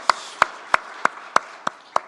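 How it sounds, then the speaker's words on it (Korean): Seven sharp, evenly spaced hand claps in a church service, crisp and close, with nothing else audible between them. "우리 박수로 감사하겠습니다"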